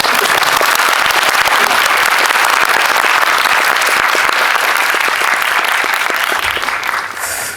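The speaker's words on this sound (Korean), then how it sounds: "큰 박수 한번 보내주실까요?" Audience in a Lotte Cinema World Tower screening hall applauding at a special guest-visit event for the film Witch 2: dense, loud, sustained clapping from a large crowd that fades slightly at the end.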